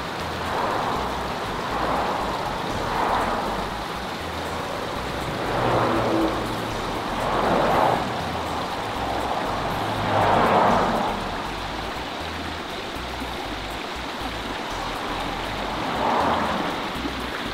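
Spring water runs beside a roadside in Vernonia, Oregon, a steady close rushing flow with a broad hiss and slow swells in loudness, heard alone without talking.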